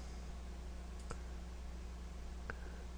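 Two sharp computer mouse clicks, about a second and a half apart, each brief and close, over a steady low electrical hum while menu items are selected in an image editor.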